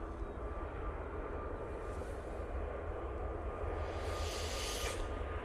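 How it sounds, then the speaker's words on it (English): Ryanair Boeing 737 MAX 8 departing Manchester Airport, a faint, distant, steady jet rumble with a brief hiss rising near the end. "737 MAX 8 now departing"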